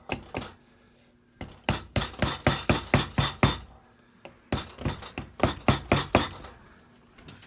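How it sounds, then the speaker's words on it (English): Hammer blows on a barn chair under repair, struck in two quick rhythmic runs of sharp knocks separated by brief pauses, close and distinct with no talking. "Difficult place to reach with a hammer."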